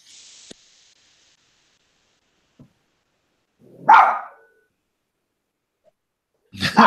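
A dog on a video call gives two short barks a few seconds apart, each clear against near silence, with a brief electronic beep at the start and small faint clicks between the barks.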